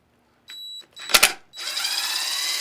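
A power drill works on the screws of a spa hot tub pump, with short whirring bursts, a sharp rattling pulse, then a sustained steady whir, close and moderately loud.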